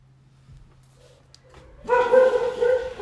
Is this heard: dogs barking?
yes